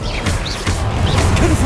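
Bombarda blasting spell impact in the game Hogwarts Legacy: a loud, continuous crashing burst with whooshing magical swells layered over it, close and forceful throughout.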